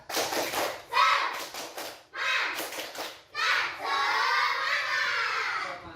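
Children in a classroom repeating a rhythmic clapping chant in several loud bursts, many young voices shouting in unison over claps, with short gaps between phrases.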